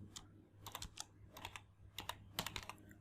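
Quiet, close keystrokes on a computer keyboard come in short irregular bursts of clicks while a spreadsheet is being filled in, over a faint steady hum.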